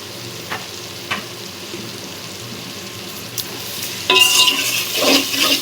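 Tomato pieces softening in a pan with onion and green chilli for a gongura curry: a faint simmer with a few light clicks, then a louder burst of sizzling and stirring near the end.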